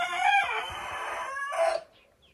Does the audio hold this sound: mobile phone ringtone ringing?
no